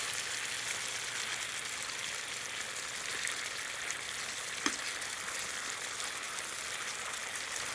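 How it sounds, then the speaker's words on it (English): Steak tips coated in barbecue sauce sizzle in a pan, a quiet, even hiss throughout with one faint clink near the middle and no voices. "And stir it up. Make sure each steak tip is coated."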